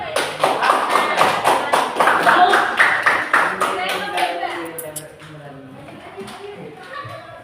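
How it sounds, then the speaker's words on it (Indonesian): A classroom of seventh-grade students gives a classmate a lively, dense round of applause for about five seconds, then the clapping fades and a teacher starts talking. "Tepuk tangan buat Mas siapa ya?"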